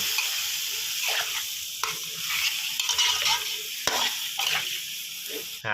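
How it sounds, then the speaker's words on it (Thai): Minced pork and squid with dried chilies are stir-fried in a hot pan, bursts of sizzling broken by repeated scraping strokes of a spatula at an uneven rhythm, close and fairly loud. "ผัดไปเรื่อยๆนะครับ จะสังเกตว่าจะมีน้ำของหมูออกมานะครับ"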